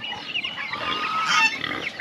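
Pigs and chickens on a Filipino backyard farm near feeding time, a dense chorus of squeals, grunts and clucks, close and continuous.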